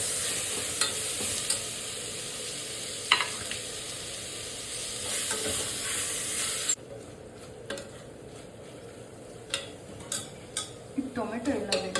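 Coriander powder fries in a pan for mushroom biryani, a soft continuous sizzle with sporadic spatula scrapes and metallic taps that grow more frequent toward the end; no voices.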